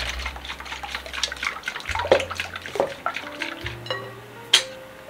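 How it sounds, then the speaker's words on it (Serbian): Liquid splashes and gurgles unevenly into a container, with small clinks and a sharper tap near the end. "Sipamo zatim 400 ml hladnog mleka."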